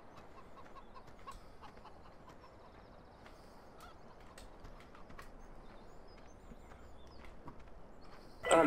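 Chickens in a farming simulator game cluck and squawk quietly in scattered bursts over a low ambient bed, ending with a louder burst.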